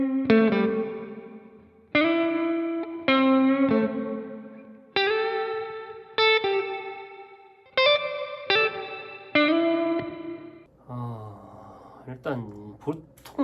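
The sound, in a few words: room reverb on M-VAVE MK300 multi-effects pedal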